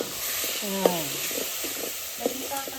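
Masala, with garlic and ginger, fries in a pan while being stirred, giving a soft sizzle with a few scraping stir sounds, heard under a person talking.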